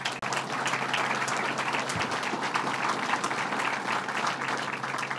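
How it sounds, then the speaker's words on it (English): An audience at a gang violence initiative event in Albany applauds the County Executive with sustained, dense clapping that holds at an even level throughout. "Let's give him a round of applause"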